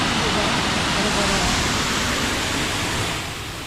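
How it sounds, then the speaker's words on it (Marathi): A waterfall in a natural outdoor setting gives off a steady, dense roar of rushing water, loud and unbroken, easing slightly toward the end. "धबधबा तरी बघा किती सुंदर आहे"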